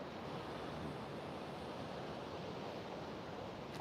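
Ocean surf washing onto the shore at an oceanfront beach in San Diego, a constant broadband roar of waves with wind noise buffeting the microphone, steady and fairly loud with no voices.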